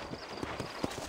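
Horse hooves clip-clop in a quick, even rhythm in the video game Red Dead Redemption, close and distinct against a faint background.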